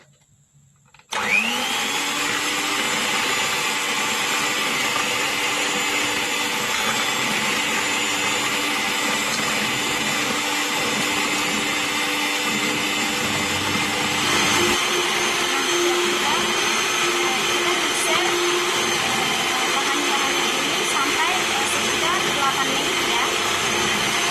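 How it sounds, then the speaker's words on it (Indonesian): An electric hand mixer beats cassava brownie batter, a loud steady whir that starts after a brief quiet opening and runs on without a break, holding even and close. "kemudian bahan-bahan tadi yang sudah kita masukkan, kita blender pakai mixer ya"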